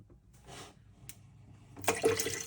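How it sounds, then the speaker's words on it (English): Water splashes and gurgles as it pours into a coffee pod machine's reservoir, starting with brief trickles and building to a louder, steady flow near the end. "let's fill up"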